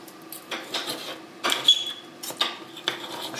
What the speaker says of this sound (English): And then we're going to chop it up into little cubes.